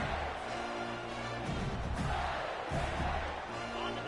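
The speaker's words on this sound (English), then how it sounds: "how nice is it to have the home crowd going absolutely bananas?" In the College Football 25 video game, a home stadium crowd at a Florida game roars loudly, a broad, continuous wash of cheering that swells and dips slightly, with a commentator's voice faintly in the mix.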